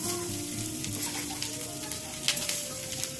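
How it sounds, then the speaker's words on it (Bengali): Grated coconut frying with sugar in a hot wok, giving a steady close sizzle with occasional stirring scrapes, and no voices. "এবার দিয়ে দেবো এর মধ্যে হচ্ছে নারকেল কোড়াগুলো।"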